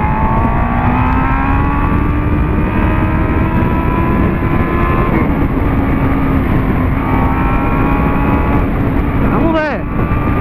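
A Honda Hornet motorcycle engine drones steadily and loudly, revving up through a gear, with a brief whoosh of something passing near the end.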